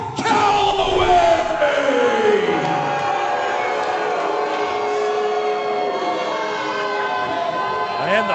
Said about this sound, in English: And the boos are deafening here in Baytown